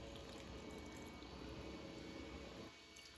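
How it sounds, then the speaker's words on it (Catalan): Cold water running steadily into a saucepan over salted cod being blanched, a faint continuous pouring and splashing that stops shortly before the end. "cobrim amb aigua freda"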